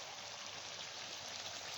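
Roughly half a glass of water is poured into a Balochi karahi curry masala while it cooks, giving a soft, faint steady hiss and trickle with no talk.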